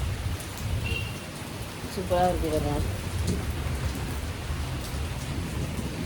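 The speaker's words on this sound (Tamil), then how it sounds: "மழை நல்லா பெய்யுது ஃப்ரெண்ட்ஸ் விடாமல்." Heavy rain falls steadily in a continuous, close hiss on surfaces, with a brief spoken remark partway through.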